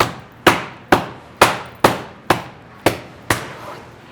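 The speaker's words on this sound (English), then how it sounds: "when you're pounding, you want to push the meat towards the sides" Poultry meat for a turducken is pounded flat with nine sharp, evenly spaced thuds about half a second apart, each striking loud and close and decaying quickly.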